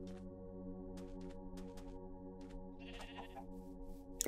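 A sheep bleats once, briefly, in the video game Minecraft, mid-distance over a steady tonal game hum, with faint clicks scattered around it.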